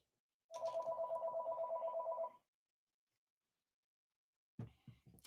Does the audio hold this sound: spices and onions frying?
no